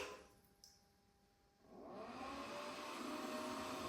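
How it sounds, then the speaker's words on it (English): A heated bidet toilet seat's warm-air dryer switches on after a short, quiet pause, and its steady, broadband fan whoosh then runs close and continuously, with no talking. "Then drying function is gonna work."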